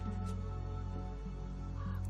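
Crows cawing in the fantasy role-playing game Lords of Xulima, a short steady stretch of harsh calls layered over constant game ambience, loud and close for about two seconds.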